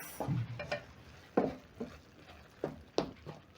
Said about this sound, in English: Stir in the coriander, and then I'm going to turn off the gas.